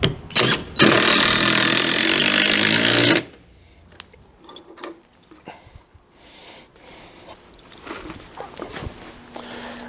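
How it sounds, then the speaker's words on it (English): Hot dip galvanized lag bolts are driven into a deck rail with a power driver: one loud, harsh burst lasting about two and a half seconds, then quiet tapping and handling noises. "I'm using these hot dip galvanized lag bolts for decks."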